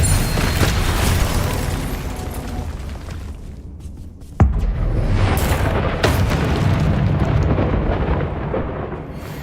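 Confringo spell explosions in Hogwarts Legacy, a loud deep rumbling boom that swells, fades, then hits again with a sharp burst and further roaring blasts, all without speech.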